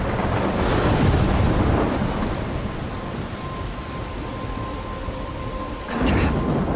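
A thunderstorm with heavy rain in the video game Life Is Strange rumbles with rolling thunder over a steady downpour and wind, loud and continuous, swelling again near the end.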